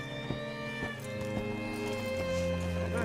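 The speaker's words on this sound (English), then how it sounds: "Hitch your horse up here." Horse in Red Dead Redemption 2 being ridden up and hitched, with a few hoof clops over a steady sustained musical score, fairly quiet and in the background.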